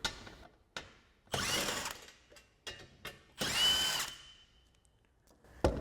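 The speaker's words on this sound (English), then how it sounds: "we'll grab our 15mm socket for these 2 bolts on the end" A tool works on bumper bolts of a 2021-2024 Ford Bronco in short separate bursts of whirring and ratcheting, close by, with quiet gaps and clicks between them.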